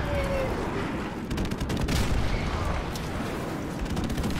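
Gunfire in the remastered Call of Duty 4: Modern Warfare online match, a dense wash of shots and bursts crackling steadily throughout at fairly close range, with a few sharper cracks standing out.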